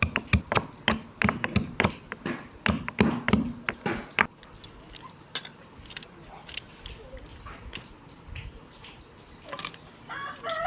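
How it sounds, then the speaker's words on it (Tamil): Peeled garlic being pounded in a small mortar, a quick series of sharp, close thuds in a steady rhythm for about four seconds, followed by softer, scattered knocks and faint handling noise. "உரிச்சு எடுத்த பூண்டை சின்னோண்டு உரலில் வச்சு நல்லா பிடிசா நச்சு எடுத்துக்கலாம்"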